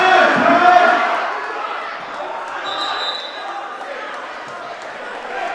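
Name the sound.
crowd cheering at a high school wrestling match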